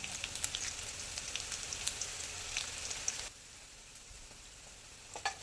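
Chopped shallots and curry leaves sizzle steadily in hot oil for a Kerala papaya and green gram curry, with crackling pops throughout. The sizzle drops to a quieter hiss partway through, and no one speaks.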